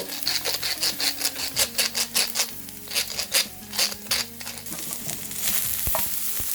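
Onion and spinach are stir-fried in a pan, with rhythmic scraping and stirring strokes over a soft sizzle, close and regular for most of the clip, then a steadier sizzle at the end.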